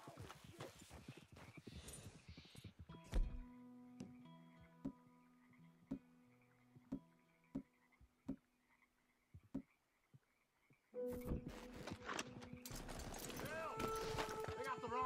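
Horse hooves in Red Dead Redemption 2 clip-clop in a slow, steady rhythm across a quiet stretch, framed by busier passages of louder game sound with croaking frogs and a horse's whinny.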